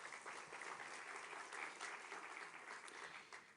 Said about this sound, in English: Et je vous propose qu'on les applaudisse aussi.